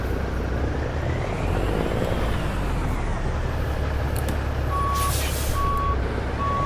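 Heavy truck in American Truck Simulator, a Peterbilt 389 pulling a Krone trailer, reversing with a steady diesel rumble while a backup alarm beeps at regular intervals toward the end, close and loud.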